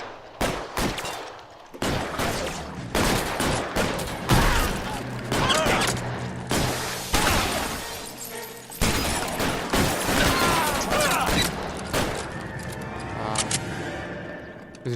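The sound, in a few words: gunfire in L.A. Noire video game shootout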